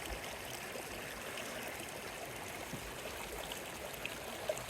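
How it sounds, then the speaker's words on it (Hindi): An ice-cold glacier meltwater stream near Fairy Meadows below Nanga Parbat rushes steadily over rocks, a dense, even wash of flowing water close by with no voices. "ये प्रॉपर ग्लेशियर का पानी है, ऊपर से आ रहा है और इंतहाई ठंडा है।"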